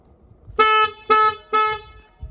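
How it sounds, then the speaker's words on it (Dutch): A car horn honks three times in quick succession, each a loud, bright blast of about a third of a second with brief gaps between, over quiet low road rumble. "Dus ik pak hem even 3 keer op de toeter."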